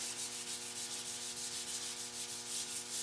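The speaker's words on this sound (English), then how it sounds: "I'll do just a little bit of sanding" Car clear coat being sanded in steady back-and-forth strokes, a continuous soft rubbing hiss with a faint rhythmic pulse, close up and fairly quiet with no voices.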